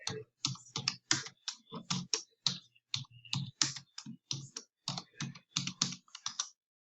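Typing on a computer keyboard while writing in MS Word: rapid, close, crisp key clicks in irregular bursts, alone with no voices.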